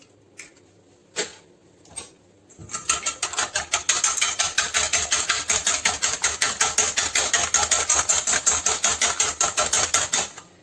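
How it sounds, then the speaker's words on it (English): An electric mixer whips eggs in a kitchen, starting with a few clicks and then running as a steady, loud, rapidly pulsing whir. "The next step is we are whipping our eggs."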